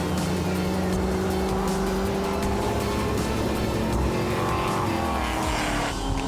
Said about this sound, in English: Going past him now, the second-place Mustang of Ferdy van Niekerk Jr., who will now inherit the lead after Falconer's misfortune.